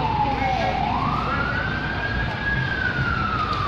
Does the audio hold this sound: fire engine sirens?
yes